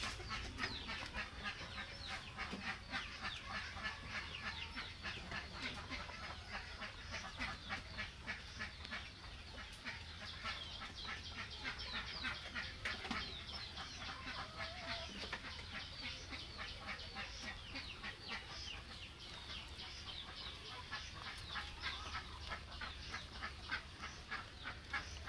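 A rooster and ducks call together in a farmyard, with steady clucking and quacking layered over continuous outdoor background noise throughout.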